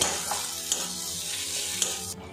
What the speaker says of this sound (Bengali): পেঁয়াজ আর রসুনটা কিন্তু বেশ ভাজা ভাজা হয়ে গেছে